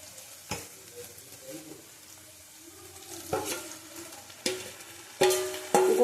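Tomato drops into a hot pan of garlic, ginger and chili paste for a katla fish curry, giving soft sizzling and several sharp stirring clatters of a utensil against the pan, close by and without talk.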